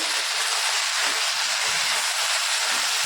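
Okra stir-fried in a pan for a spicy masala bhindi dish, making a loud, constant hissing sizzle with faint scraping underneath throughout.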